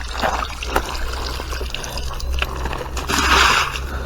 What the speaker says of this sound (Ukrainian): вже вода біжить